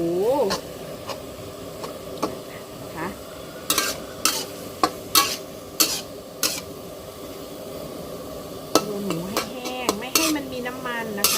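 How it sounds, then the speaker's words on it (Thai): Minced pork stir-fried dry in a pan for Thai basil pork, a steady close sizzle with repeated sharp scrapes and clinks of a spatula against the pan, alone without talk. "ลวนหมูหรือคั่วหมูเนาะ ให้แห้ง"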